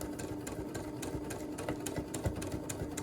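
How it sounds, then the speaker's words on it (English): A sewing machine runs steadily as it top stitches face mask fabric, a close, continuous mechanical whir with rapid needle ticks and no voices. "try and keep it as flat as possible where I'm top stitching"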